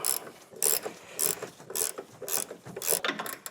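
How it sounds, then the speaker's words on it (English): An 18-inch box wrench snugs bolts during a front CV axle replacement on a 2007–2018 Silverado, giving a loud, close ratcheting click burst roughly every half second in a steady repeating cycle, with no voices. "Grab our 18-inch box wrench and snug these up."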